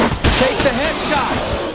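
Rapid gunfire from the zombie survival game State of Decay 2, a loud burst of shots running nearly the whole stretch over a dense noisy background, with voices mixed in.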